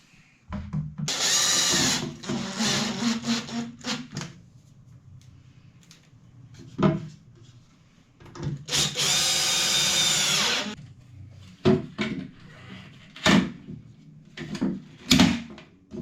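A power drill screws in a fitting while a toilet is installed in a wet room, with several whirring bursts of one to two seconds each, broken by short clicks and knocks of the tool and parts, close and fairly quiet.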